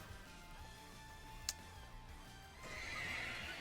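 A horse neigh from the Chilling Neigh move in the Pokémon Scarlet & Violet video game, one short sharp whinny among soft game music, followed by a brighter icy shimmer.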